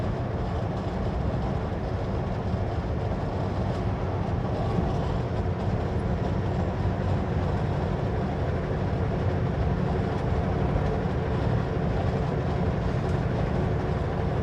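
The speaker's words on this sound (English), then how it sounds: "It's a pretty long train." A long train rumbles slowly past near Shuswap Lake, Canada, a continuous dense roar of wheels and cars that holds at an even loudness throughout.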